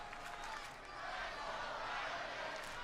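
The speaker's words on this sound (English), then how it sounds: "hear the chants from this crowd in Louisville" A wrestling crowd at a SmackDown event in Louisville chants together, a steady, dense, distant roar of many voices that fills the arena without a break.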